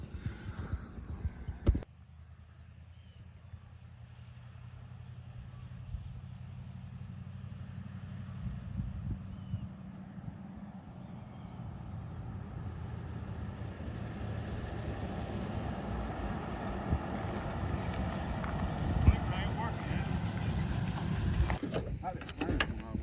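A 1941 Ford car engine runs steadily at close range, a low, continuous rumble that swells slightly in loudness as it keeps going.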